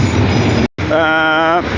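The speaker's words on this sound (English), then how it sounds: "That's a tram." A tram passes loudly and close by on a street near Leningrad Zoo in Russia, a heavy rolling rumble that briefly drops out, then returns with a rising whine.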